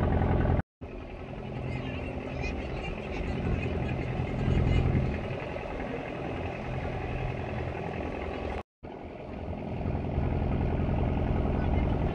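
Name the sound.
launch boat engine departing from Ramganga ghat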